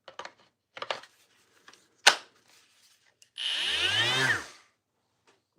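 A wood sander in a workshop, used while finishing a cutting board, spins up with a loud rising and falling whine for about a second, then cuts out abruptly. Scattered clacks and taps of handling come before it.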